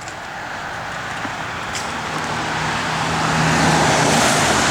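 A 1970 Dodge Charger R/T drives by with a steady, rumbling engine drone and broadband road noise, growing slightly louder toward the end, with no voices present.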